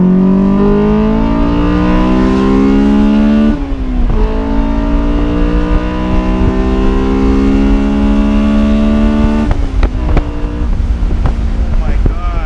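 A Honda fitted with a J's Racing exhaust revs hard and close, its pitch climbing steeply into VTEC, dipping briefly at a shift, then climbing again and ending with a few sharp crackles and pops.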